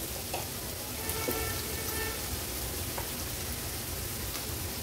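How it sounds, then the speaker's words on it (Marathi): Onion, turmeric and homemade Agri Koli masala fry in oil for a fish thali, making a steady soft sizzle with faint crackles throughout, fairly quiet and even. "हळद आणि मसाला तेलावर छान आपल्याला परतून घ्यायचा आहे।"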